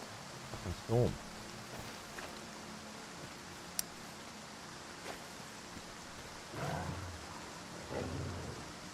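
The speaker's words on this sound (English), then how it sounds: "Storm." A thunderstorm in the video game Stalker 2 brings steady rain hiss with low rumbling thunder rolls, moderately quiet, with a voice speaking briefly.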